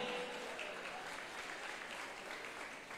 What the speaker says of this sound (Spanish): para quien pedimos un fuerte y caluroso aplauso